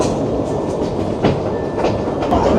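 The Puffing Billy heritage steam train rolls along the tracks through forest with a steady rumble and faint rhythmic clatter of wheels, heard close from onboard.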